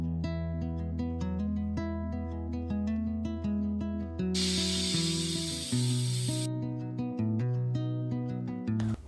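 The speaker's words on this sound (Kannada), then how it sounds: "ಲಿಡ್ನ ಕ್ಲೋಸ್ ಮಾಡಿ ಒಂದು ವಿಷಲ್ ಕೂಗಿಸ್ಕೊತೀನಿ" A pressure cooker steaming greens for Karnataka-style sambar lets out a sharp, hissing whistle for about two seconds midway, set against steady background music.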